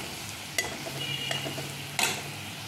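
Vegetables with turmeric and chili powder stirred in a hot frying pan: a steady close sizzle, with a couple of sharp scrapes of a utensil against the pan and no talking.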